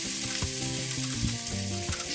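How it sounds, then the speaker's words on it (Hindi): Fresh green peas sizzle and fry in hot oil with roasted cumin in a pan, a steady loud crackle with some stirring, and no voices over it. "अब मैं डालूंगी इसमें हरे मटर"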